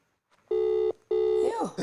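A telephone rings twice in long steady electronic tones with a short gap between them, loud and close, and a voice starts speaking right after the second ring.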